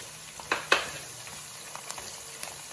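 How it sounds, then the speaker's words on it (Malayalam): Chopped garlic frying in hot oil makes a faint, steady sizzle. Two sharp bursts come early, as if from stirring or adding pieces, then lighter clicks follow. "നമുക്ക് ആ വെളുത്തുള്ളി ഇതുപോലെ അരിഞ്ഞത് ഇട്ട് കൊടുക്കാം"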